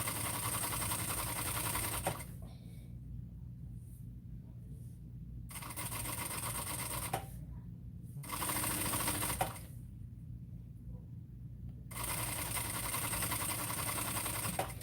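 Sewing machine basting fabric onto a bag with a narrow seam allowance: a steady rapid mechanical whirr running in three or four bursts of a few seconds each, separated by quiet pauses, close and fairly loud.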